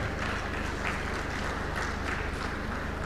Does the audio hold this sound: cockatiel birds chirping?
no